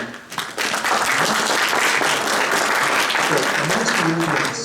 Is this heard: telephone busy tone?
no